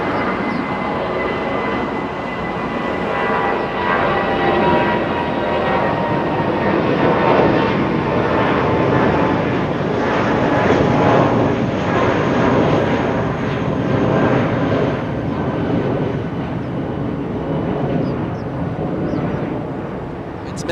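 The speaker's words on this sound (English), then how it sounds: "It's a Dreamliner flying in from Melbourne. It's a 787. And it's arriving." A Qantas Boeing 787 Dreamliner, flight QF-93 arriving from Melbourne at Los Angeles International Airport, gives a steady, loud broadband jet roar that swells gently and holds for the full stretch, with faint talk in the background.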